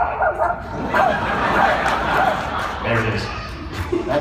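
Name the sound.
voice actor imitating a barking dog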